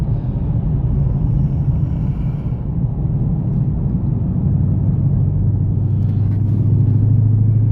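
A Dodge Challenger wide body Scat Pack from auction cruises on the road in high gear, a deep continuous engine rumble steady and loud from inside the car, no talking.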